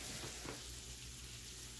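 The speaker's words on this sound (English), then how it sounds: "Get this meat all fried up here" Ground meat frying in a cast iron skillet for shepherd's pie, a steady low sizzle throughout with a couple of brief stirring bumps near the start, no talking.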